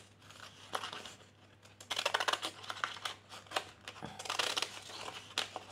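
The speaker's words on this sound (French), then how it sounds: "je vais venir couper un petit peu au ciseau cranteur" Pinking scissors snipping paper for a scrapbook altered book, close and quiet, with irregular bursts of crisp crunching cuts and short pauses between them.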